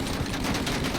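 A dense, continuous stretch of rapid gunfire in the Mafia game rattles loud and close for about a second, with no speech.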